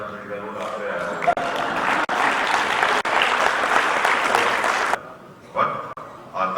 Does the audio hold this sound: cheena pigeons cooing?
no